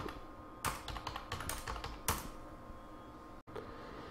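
Rapid computer keyboard typing in two quick bursts of clicks while an online income tax return form is filled in, close and fairly quiet over light room noise, with no talking.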